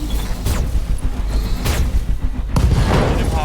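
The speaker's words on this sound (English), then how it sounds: "Target confirmed. Boom! Ammo explosion." Ammo explosion in the BattleTech video game: a dense, continuous stream of loud booming blasts and crackling bursts, with a sharper fresh detonation near the end, no voices over it.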